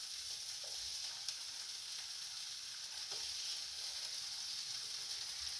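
Bologna frying in a pan on high heat gives off a steady, close, unbroken sizzle and hiss, with a couple of faint pops and no talking.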